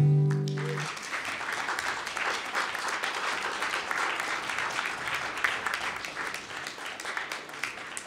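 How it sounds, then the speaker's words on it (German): Applause at an open stage night in a casino venue, a dense, sustained patter of many hands clapping after a short sung or played note fades out at the start. "Ja, dicken Applaus."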